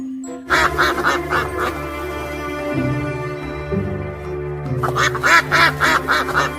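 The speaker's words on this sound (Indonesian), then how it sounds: "ternyata ini bebek teman-teman" A white duck quacking in repeated loud, close bursts, first a rapid run of quacks, then a quieter stretch with a droning background, then another quick volley.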